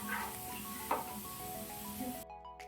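Prawn masala for a prawn biryani sizzles steadily in a pot as it is sautéed and stirred, with a close, continuous frying hiss, occasional utensil scrapes and a brief louder clack, cutting off abruptly near the end; no one speaks.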